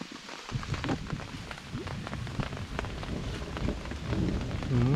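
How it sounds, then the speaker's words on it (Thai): Heavy rain pours down steadily while wind gusts through, drumming on surfaces at a loud, constant level at a bamboo-hut campsite where a fire was being built. "ฝนตกเมื่อกี้แรงมากครับ"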